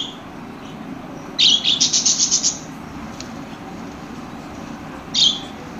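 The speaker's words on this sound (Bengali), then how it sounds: "এখানে দেখতে পাচ্ছেন এক জোড়া ইউলু রিংনেট টিয়া পাখি রয়েছে" A pair of yellow ringneck parrots in a breeding cage, a quick burst of shrill, rapid chattering calls followed a few seconds later by a single short squawk, close and fairly loud over quiet background.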